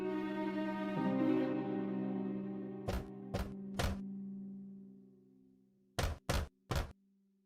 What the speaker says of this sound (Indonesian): lalu datang ke pintu pondok dan mengetuk pintunya.